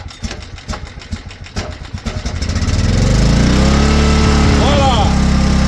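A small engine fitted with a cheap Chinese Amazon knockoff carburetor, choke on: a string of sharp pull-start attempts, then it fires and settles into a loud, steady, close-up running drone.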